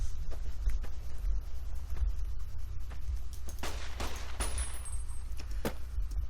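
Gunfire from a weapon in the video game Fallout New Vegas, several sharp, separated shots cracking over a low rumbling background, irregularly spaced across the stretch.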